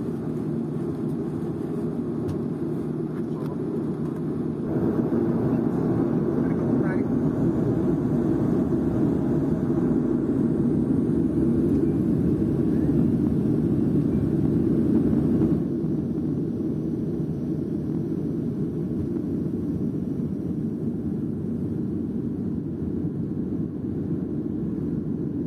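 A Boeing 737-300 airliner taking off from runway 07 at Majuro, heard from inside the cabin as a steady, loud engine roar and rumble that swells mid-run and then eases slightly as it climbs.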